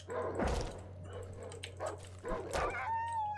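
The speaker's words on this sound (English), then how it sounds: "Oh, it is a dog, it is a dog" A dog in the horror video game Darkwood barks and yelps a few times over a low constant in-game hum, fairly faint with sparse tonal effects near the end.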